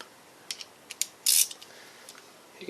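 A socket ratchet is used on a Honda pressure washer, giving a few sharp, close metallic clicks and one brief louder ratcheting burst in an otherwise quiet space.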